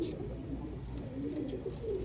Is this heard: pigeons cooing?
yes